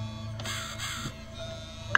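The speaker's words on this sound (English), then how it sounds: "Where am I? I hear a crow." A crow caws in the video game The Cat Lady, a couple of harsh drawn-out calls over a low ambient drone, followed by an abrupt loud noise at the end.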